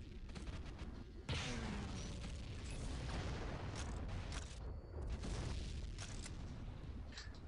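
A missile explosion in the Tribes 2 video game, a sudden burst over a constant roar of game action and other booms, fairly faint overall.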